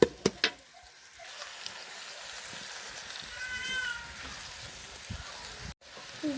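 Onions with garlic fry in a pan for a beetroot lunch dish, a steady soft sizzle running throughout with a few faint taps and a brief high cry partway through.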